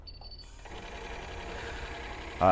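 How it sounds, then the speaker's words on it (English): A Spangle Elite rhinestone spangle machine starts up and runs with a steady, fairly quiet mechanical whir, ending in a brief louder clatter. "get our Spangle Elite running"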